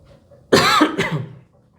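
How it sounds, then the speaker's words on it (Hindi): A single harsh cough burst, loud and close, followed by a second shorter cough, then quiet. "बाप रे इतना खांसी"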